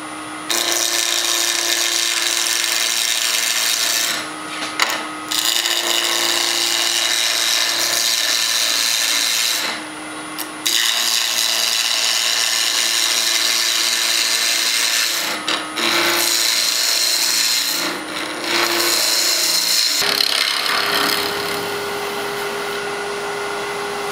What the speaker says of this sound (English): I'm gonna pull out the Easy Wood with the negative rake and really finish it off.